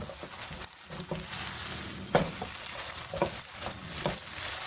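Boneless chicken breast pieces are stirred and mixed in a hot frying pan, giving a continuous close sizzle broken by several scraping strokes of the spoon, with no voices.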